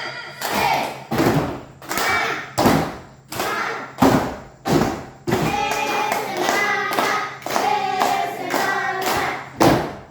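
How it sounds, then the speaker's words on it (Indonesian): A group performs a tepuk semangat clapping chant in a classroom-style session, with loud, sharp rhythmic claps in short bursts and patterned beats, then a run of quicker, denser clapping with some voices mixed in. "Oke, tepuk semangat."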